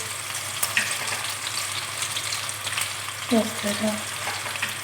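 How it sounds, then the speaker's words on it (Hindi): Slit green chillies fry in oil over a low-to-medium flame for chicken pulao, giving a soft steady sizzle with occasional stirring clinks; someone speaks briefly over the frying near the end. "अब इसके अंदर मैं ऐड कर दूँगी सब्ज़ मिर्चें"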